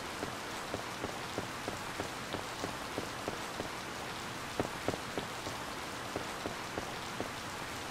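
Steady rain from the farming game Harvest Moon: Light of Hope, a continuous dense patter of drops falling on a surface with faint regular ticks, heard alone without talk.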